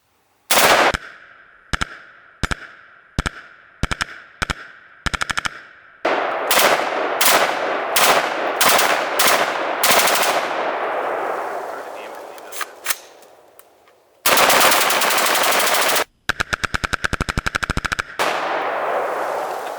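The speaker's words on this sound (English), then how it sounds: "Let's see how we go if maybe I threw some bump fire down on it." Rapid bump-fire gunfire aimed at rubber straps: rattling bursts of shots, first spaced in short groups, then long fast strings, loud and close, with gaps of silence between bursts.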